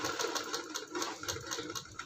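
Sewing machine stitching a buttonhole strip half an inch from the edge, running fast with a steady rapid mechanical chatter, close and continuous.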